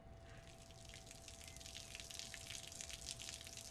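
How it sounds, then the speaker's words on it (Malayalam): Water overflows from a full household tank filled by an electric pump motor, a steady rushing splash that continues without pause, moderately distant and fairly soft. "ദേ അമ്മ ടാങ്ക് നിറഞ്ഞ് വെള്ളം വീഴുന്നു"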